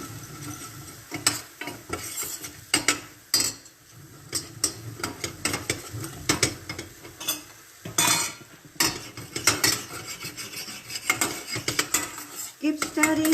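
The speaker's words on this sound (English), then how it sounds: "Keep on stirring till the color is still not yet, it's still light." Mohanthal mixture being stirred in a pan with a utensil, continuous scraping and clinking of metal against the pan with faint sizzling, near and steady with no talk.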